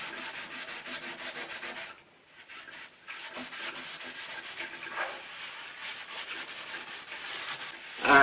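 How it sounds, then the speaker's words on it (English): Wire wool rubs down a wooden coffee table coated with OSMO Top Oil in steady, fast back-and-forth strokes. The close, continuous scratchy swishing pauses briefly partway through. "give it a light rub down with a bit of wire wool just to finish it"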